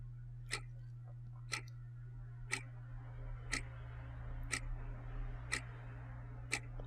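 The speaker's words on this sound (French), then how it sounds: "c'est archi stressant les horloges la nuit quand tu dors" A clock ticks steadily in a quiet room at night, seven sharp ticks evenly spaced about a second apart over a low constant hum, with no voices.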